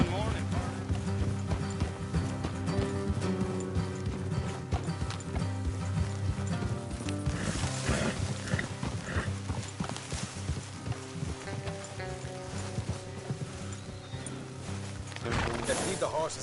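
Horses trot along an off-road trail in Red Dead Redemption 2, a steady clip-clop of hooves running under dense music and game ambience, with a voice speaking over it.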